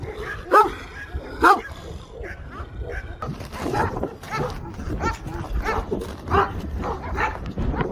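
Deep, heavy barks from a Kangal dog ring out twice, then again later, with scattered outdoor noise and rustling between them.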